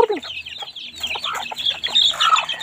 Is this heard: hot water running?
no